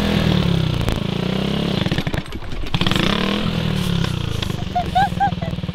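A motorcycle ridden by a beginner learning the clutch and throttle, its engine droning loudly and unevenly with some clatter while voices talk over it.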